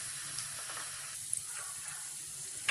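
Onions frying in hot oil for Bihari keema, a soft, steady hiss of sizzling at low volume with a few faint crackles and pops.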